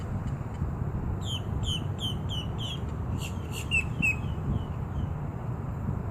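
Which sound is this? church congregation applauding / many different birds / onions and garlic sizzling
many different birds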